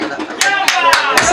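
An audience gives a few sharp claps of applause for the uncle at a celebration, close and loud, while a voice keeps talking over them.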